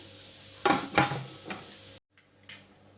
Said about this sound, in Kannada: ಈಗ ಕುಕ್ಕರ್ ಮುಚ್ತಾ ಇದ್ದೀನಿ